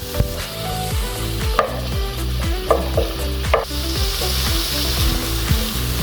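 Chicken perattu ingredients sautéing in a pan, browning to a light brown colour: a steady close sizzle and frying hiss with repeated stirring scrapes and a few sharper clatters, no voices.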